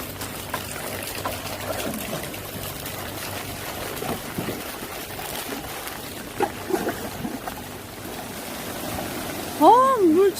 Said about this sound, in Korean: 지금 옆에 우리 밭 옆에 이렇게 농수로로 내려가는 물